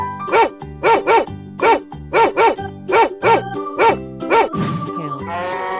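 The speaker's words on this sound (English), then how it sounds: "Dog." A dog barks in a 3D animal video game, giving a loud, close run of about twelve sharp barks, mostly in quick pairs at a steady rhythm, then a brief scuffle and a higher whine at the end.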